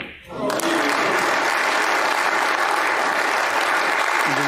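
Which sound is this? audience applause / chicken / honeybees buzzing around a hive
audience applause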